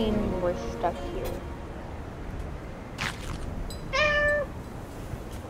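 Short meows in Little Inferno, the fireplace game, a few brief calls spread out over a quiet background.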